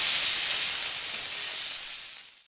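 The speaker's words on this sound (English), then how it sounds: "I'm gonna go ahead and flip our bacon over. It's crispy, but it'll be soft enough." Bacon sizzles loudly and steadily on a grill while being flipped, a dense continuous hiss that fades away near the end, with no talking.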